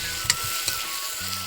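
Meat sizzles with spices in a hot pan, a steady close frying crackle with a few sharper pops, heard alone without talk.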